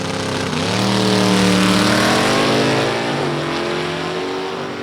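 A Chevrolet and a Rambler American drag race car launch side by side at a drag strip, their engines roaring loudly as they rev up and shift, the pitch climbing and stepping before the sound slowly recedes.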